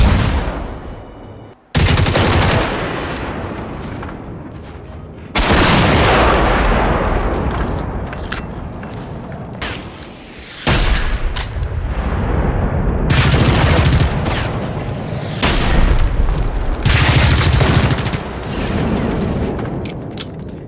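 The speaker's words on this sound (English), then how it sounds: "the sound design for guns and explosions is one of the best I ever experienced." Loud, close bursts of gunfire and explosions ring out in the video game Generation Zero, set in 1980s Sweden, with repeated rapid volleys and heavy booming blasts separated by brief pauses, with no talking.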